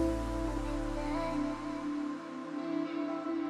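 A relaxed, mellow music track plays steadily with sustained tones and a soft low end, no voices over it.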